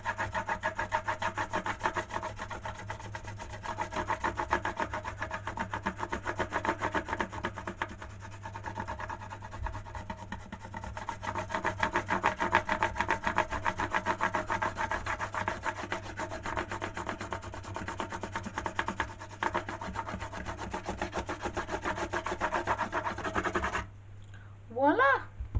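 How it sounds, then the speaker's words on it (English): Paper rubbed steadily over a carved wooden jewellery box, a continuous close scratchy friction that runs almost without pause for most of the stretch before stopping near the end, with a brief voice at the close. "from this corner where it starts, I'm just going to start rubbing it in"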